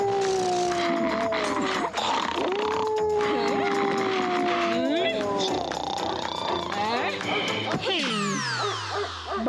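Animals outside howling and barking in a loud, sustained chorus of long wavering howls, with several overlapping voices over a cartoon soundtrack, followed by sliding sound effects near the end.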